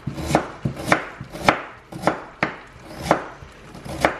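Peeled radish is cut into thin slices with a kitchen knife on a board, about eight crisp, close chops in a loose, unhurried rhythm, each followed by a short decay, with no one speaking.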